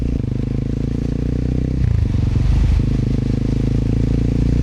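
A Kawasaki KLX 230 motorcycle with stock exhaust idles steadily with a low, even engine rumble, swelling briefly into a slightly louder, rougher patch midway before settling back.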